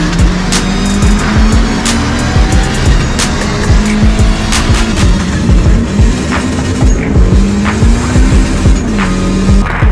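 Mercedes CLA 45 AMG fitted with a 5-inch intake and turbo blanket, loud and close as the engine revs repeatedly, with rising and falling pitch, intake whooshes and sharp pops or clicks running throughout.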